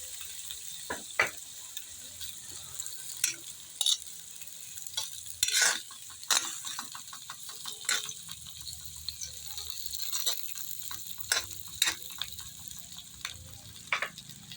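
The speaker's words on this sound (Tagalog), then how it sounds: "ilagay na natin yung ating na half fry na pork chop" Half-fried pork chops with sautéed onion and garlic sizzle in a pan, a steady soft frying hiss broken by frequent sharp clicks and scrapes of a spatula stirring, close by with no talk.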